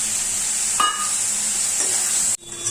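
Fried onion goes into a pan of sizzling ground coriander, cumin and potato for a crab dish, giving a loud steady sizzle with a few stirring scrapes before the sound cuts off abruptly near the end.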